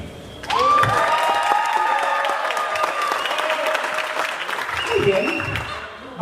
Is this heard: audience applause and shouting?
yes